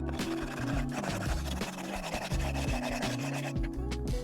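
A brick is rubbed back and forth along the top of a garage wall to grind down mortar lumps, a close, steady gritty scraping in rapid repeated strokes.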